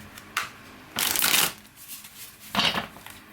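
Tarot cards shuffled by hand in three separate bursts of crisp riffling, the middle one longest and loudest, close up with no talking.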